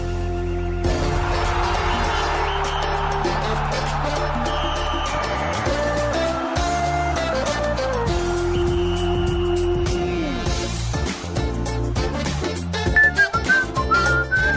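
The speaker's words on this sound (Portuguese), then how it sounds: "Olha só, o rei do assobio" Someone whistles a melody over loud backing music, with sustained notes, quick runs, and a few higher trills near the end.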